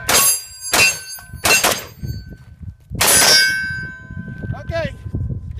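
Rifle rounds from a Norinco-made Polytech Legend with a milled receiver striking an AR500 steel target, heard as about five loud, ringing metallic clangs, some in quick pairs, each with a long bright decay over faint background noise.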